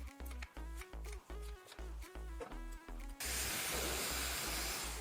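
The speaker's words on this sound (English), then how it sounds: "I'm just gonna spray this in and then get to blow drying my hair" Leave-in conditioner is sprayed onto fine hair in a short burst of steady hiss after a run of rhythmic pulsing background sound.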